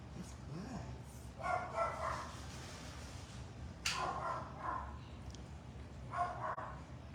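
A small rescued dog gives a few soft, whimpering yips and barks in separate short bursts, fairly faint and close, with quiet room noise between them.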